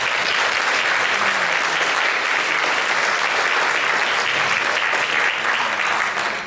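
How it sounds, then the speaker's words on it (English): Sustained, dense round of applause from an audience at a round-table review of an antiquities collection, steady and full throughout with no pauses. "we just wanted to give them a round of applause and say thank you very much"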